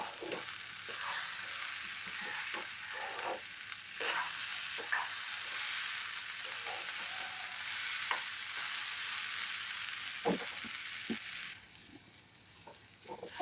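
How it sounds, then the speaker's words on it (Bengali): Peas and carrots stirred and fried for chicken khichuri, a steady sizzle with soft spoon scrapes running throughout, fading near the end. "এখন দিয়ে দেব ধুয়ে রাখা মটরশুঁটি আর গাজর। আর একটু নাড়াচাড়া করে ভেজে নেব।"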